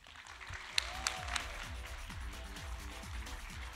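Audience applause for machine learning competition winners at the Yandex Cup 2025 finals, a soft, steady wash of clapping with a few sharper claps early on, faint and distant beneath a low rhythmic musical backing.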